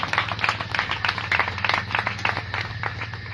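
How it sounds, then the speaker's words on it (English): An audience claps at an evening religious discourse in Contai, Bengal, India, steady close hand claps in a brisk even rhythm over a low constant hum, with no one speaking. "So give a big round of applause for him."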